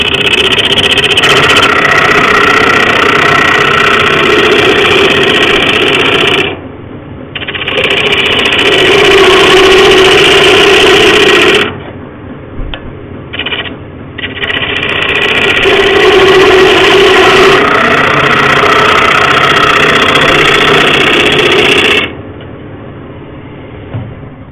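A wood lathe turning a solid timber bowl, giving a loud steady motor hum with a cutting rasp that comes in long bursts, stops briefly, then starts again, with short quiet gaps between passes.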